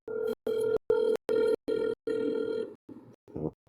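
An electronic telephone ring repeats as a run of short, even tone bursts with brief gaps, moderately loud, ending in a few broken, fainter pulses.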